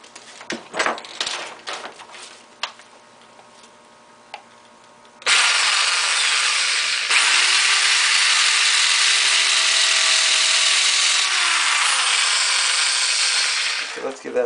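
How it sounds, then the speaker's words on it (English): A power drill with a 1/8 inch bit boring straight down into a hole, starting after a few scattered handling clicks and then whining steadily for several seconds, its pitch dipping under load near the end. "take about a 1/8 inch drill bit and just start to drill straight down into the hole"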